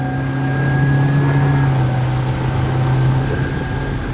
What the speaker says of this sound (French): on met les moteurs en marche